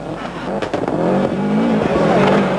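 Carlos Sainz's Subaru rally car at the 1995 Monte Carlo Rally roars close by, its engine revving hard and rising in pitch over a couple of seconds, with a voice talking over it.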